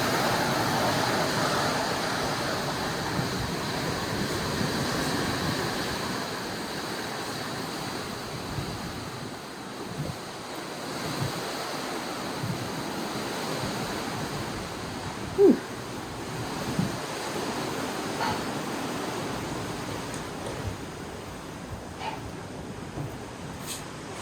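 Steady wind roars across the open observation deck of the Carnival Luminosia cruise ship in Alaska, mixed with a broad surf-like rush of sea and air and a single brief knock partway through, with no talk.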